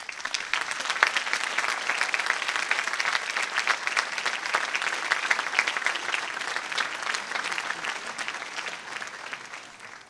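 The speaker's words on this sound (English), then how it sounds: "I really think they are due a round of applause for everything they do for these kids." An audience at a 2025 high school graduation ceremony claps steadily in a dense, sustained round of applause that fades slightly near the end, with no talking.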